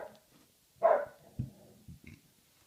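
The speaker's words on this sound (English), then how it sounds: "the dog really want to come in" A dog barks outside wanting to come in: one sharp close bark followed by a few softer, shorter woofs, in an otherwise quiet room.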